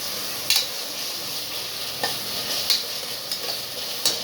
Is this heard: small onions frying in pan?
yes